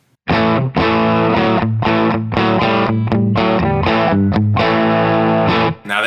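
Distorted electric guitar played through the bridge pickup of a cheap Amazon Les Paul copy, loud sustained chords in a rhythmic riff with brief gaps between strums, heard alone without talk.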